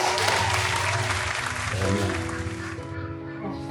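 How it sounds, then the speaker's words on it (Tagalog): A live audience claps together at a cheerful home-blessing gathering, a loud burst of applause with music or voices running beneath it that thins toward the end. "Palakpak naman yung masaya dyan"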